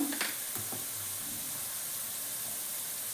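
Chili powder, turmeric and coriander powder fry in hot oil with onions for a drumstick curry, a steady, dense sizzle that runs throughout, with a few brief clinks of a spoon near the start.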